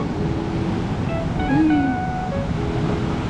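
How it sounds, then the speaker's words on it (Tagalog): Strong sea waves roll and crash continuously on a beach, a loud, dense roar with wind buffeting the microphone and a faint passing tone. "sobrang lakas ng alon"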